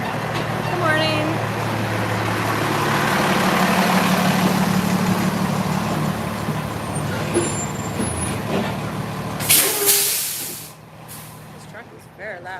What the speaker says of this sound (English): This truck is very loud.